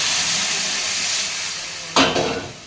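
Hot water poured into a pan of frying pumpkin curry sets off a sudden loud hissing burst of steam and sizzle, which then tapers off over the last second after a long stretch of steady frying hiss.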